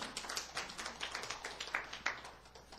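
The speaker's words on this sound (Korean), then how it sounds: "굉장히 잘하시는데 박수 한 번만." Scattered clapping from a small church retreat audience, fairly faint and steady across the whole stretch with no talking over it.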